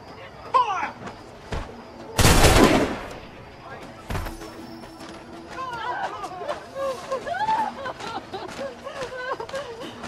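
Musket volley from a firing squad in the Assassin's Creed 3 video game, one sharp loud blast near the start, with a second crack after and crowd chatter and voices around it.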